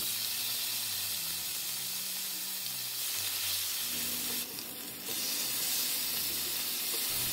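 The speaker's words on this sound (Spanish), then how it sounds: "Llegó el momento de llevar los tlacoyos a freír" Tlacoyos of bean masa with cheese fry in hot cooking oil, giving a steady broadband sizzle that runs evenly throughout, with a brief dip in the middle.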